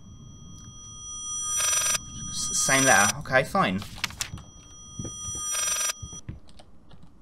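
Telephone ringing in the horror video game Layers of Fear: two bell-like rings sound a few seconds apart, with a person talking briefly between them over a dim, rumbling game ambience.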